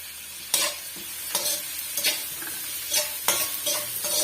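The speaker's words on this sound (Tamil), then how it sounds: "ஓரளவுக்கு வெங்காயம் வதங்கி நல்லா வரட்டும் அது வரைக்கும் நம்ம வதக்கி விட்டுக்கலாம்" Onions sizzle steadily in a hot pan over high flame with curry leaves, with a spoon stirring and scraping at irregular intervals; no voices.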